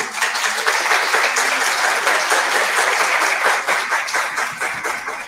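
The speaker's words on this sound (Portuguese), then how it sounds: "eu vou pedir que todos tragam aqui um grande aplauso para você" Sustained, dense applause from an audience at the close of an education lecture, steady and loud throughout with no voices standing out.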